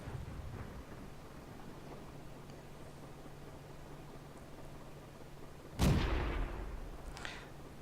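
A single booming tank cannon shot from a T-60 light tank in a tank video game, one sharp loud blast with a short rumbling tail, standing out over a low steady engine drone.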